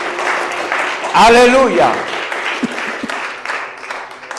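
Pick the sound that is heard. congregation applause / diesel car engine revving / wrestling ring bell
congregation applause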